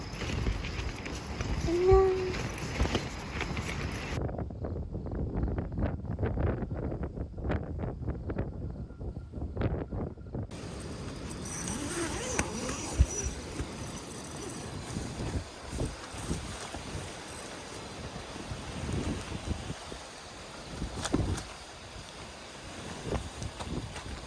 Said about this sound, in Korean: 바람 너무 많이 불어요